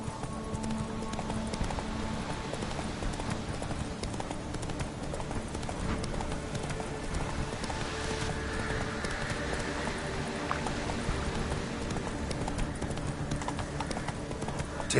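Roach, a horse in The Witcher 3 video game, clip-clops in steady, continuous hoofbeats at a brisk pace, close and even throughout, with no voices over them.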